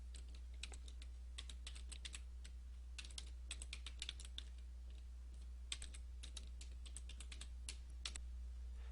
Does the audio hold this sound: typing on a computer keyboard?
yes